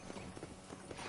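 Horse hooves clip-clopping in the video game Red Dead Redemption, a quiet, rhythmic patter of steps over a constant wash of background noise.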